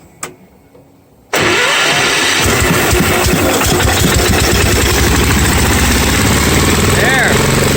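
A small engine, choked, with its air filter just refitted, pulled once or twice quietly then catching suddenly and running loud and steady at close range for the rest of the clip.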